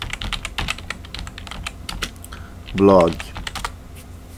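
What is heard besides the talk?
typing on a computer keyboard into Google search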